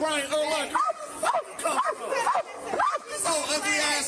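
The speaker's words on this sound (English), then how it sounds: "Mind the dog barking." A dog barks repeatedly in quick, high yapping bursts, fairly close and loud, over a background of people's chatter.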